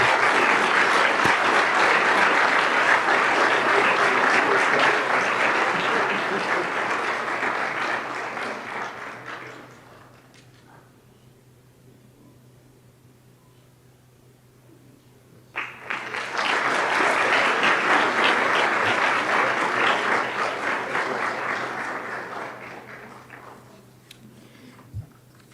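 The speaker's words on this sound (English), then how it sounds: "if we can just please give her a round of applause" An audience at a school board of education meeting applauds to honor the Teacher of the Month: a long, loud burst of clapping that fades into a quiet lull, then a second full round of applause that tapers off near the end.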